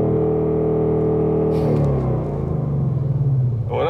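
A Ford Mustang GT with a 5-litre V8 and manual gearbox launching at full throttle: a deep, loud engine rumble that surges and rises in pitch as the car pulls away hard.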